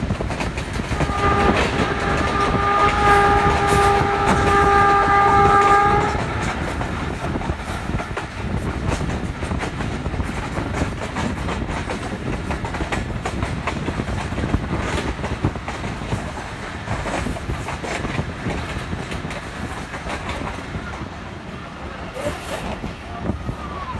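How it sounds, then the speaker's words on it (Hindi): The Millat Express passenger train runs on rails with a loud, continuous rumble and rattle of wheels. A long horn blast sounds for the first few seconds, followed by a steady clatter. "हमारी ट्रेन ने काफ़ी ज़्यादा अच्छी स्पीड पकड़ी"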